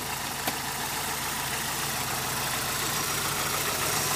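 A 1998 Chevrolet Vectra GLS running on natural gas settles into a steady, even idle, a continuous low engine drone heard up close with no talk over it.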